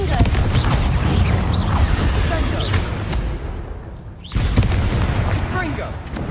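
A Confringo blasting spell goes off in Hogwarts Legacy during a fight with spiders, giving loud, rumbling explosive roar that fills the clip, dips briefly, then surges back, with voices over it.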